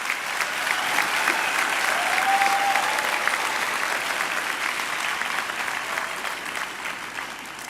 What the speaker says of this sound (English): Could we have another round of applause for all our graduates?